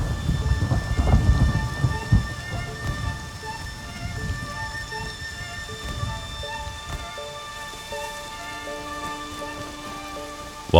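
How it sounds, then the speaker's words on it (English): Steady rain and a thunderstorm in the Rust survival video game: a heavy low thunder rumble rolls through the first seconds over continuous dense rainfall, which carries on alone at an even level with faint tonal background hum. "The storm wasn't letting up. It had been raining for a long time."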